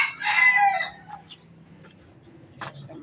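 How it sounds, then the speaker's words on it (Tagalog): A labuyo junglefowl rooster crows once, loud and near, followed by quieter clucks and faint farmyard rustling. "sila aking mga manok na mga labuyo"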